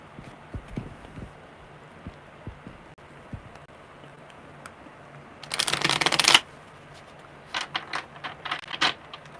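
Tarot cards are shuffled: soft scattered card taps, then one loud riffle lasting about a second, followed by several shorter bursts of cards flicking together, close up and with no talking.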